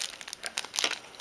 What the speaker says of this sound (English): So a plastic bag, put it over the nail wrap, just like this.